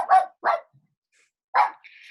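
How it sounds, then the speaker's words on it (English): A dog barks indoors, two quick barks followed by a pause and a third, close and fairly loud, with a faint higher tone trailing at the end. "That's my dog."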